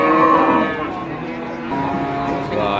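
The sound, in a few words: cattle mooing at Wirosari livestock market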